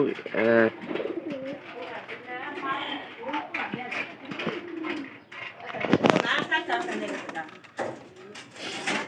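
Pigeons cooing in a straw-lined loft, soft repeated throaty coos close by, mixed with someone speaking throughout and some shuffling movement.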